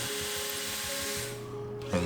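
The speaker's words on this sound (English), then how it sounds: "pre-drill your holes" A power drill pre-drills holes in 2x4 wood, a steady whining motor with grinding bite that winds down near the end, close-up and without talk.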